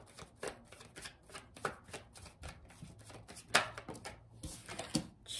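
Tarot cards being shuffled by hand, a run of soft riffling and slapping bursts in an uneven rhythm, close and quiet with no talking.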